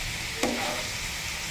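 Cabbage and mixed vegetables are stir-fried in a pan, a brief clack followed by a steady sizzling hiss, close and constant.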